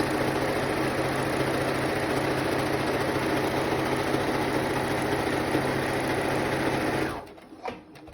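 A sewing machine stitching a fabric mask runs as a loud, steady, close whir for about seven seconds, then stops abruptly, leaving a faint clunk and quiet room noise.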